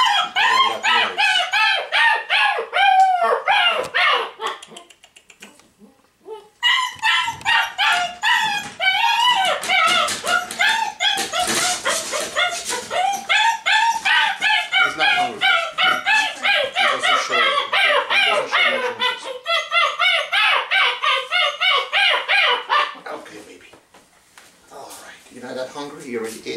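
A litter of 5.5-week-old German Shepherd puppies whining, yipping and barking almost nonstop, high and shrill and close by, with a brief lull near the middle and another toward the end.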